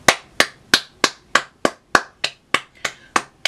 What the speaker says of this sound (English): Clap it up for Jacob Saggy Pole Titty.